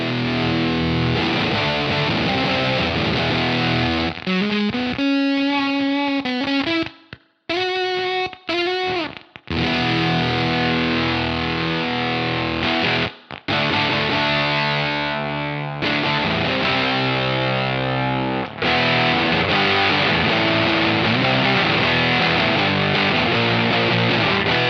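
A thick, low fuzz-distorted guitar plays sustained chords and riffs, loud and saturated, with a few brief pauses between phrases.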